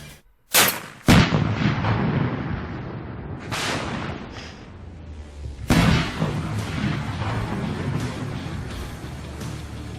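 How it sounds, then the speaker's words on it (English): Several loud gunshots fired at a Prius car, an initial sharp pair of reports followed by further blasts spaced a few seconds apart, each with a booming, echoing tail and rumbling reverberation filling the gaps. "She's going to shoot a Prius with the word socialism printed on it."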